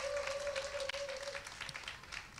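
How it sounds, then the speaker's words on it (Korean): A church congregation applauds its media team in quiet, scattered clapping heard from a distance, with a faint sustained tone lingering under the first half before the claps thin out. "우리 미디어 팀을 향해서 좀 격려의 박수를 좀 보내드리겠습니다."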